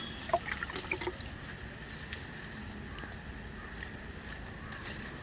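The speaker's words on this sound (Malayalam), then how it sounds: "ഇത് പാലക്കിന് നമുക്ക് ഒഴിച്ച് കൊടുക്കാം" Organic liquid slurry is poured onto spinach plants in a garden, making a faint, steady trickle with a few small splashes at the start.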